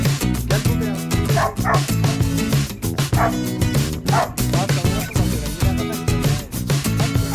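Repeated dog barks and yips sound in quick succession over steady, loud background music.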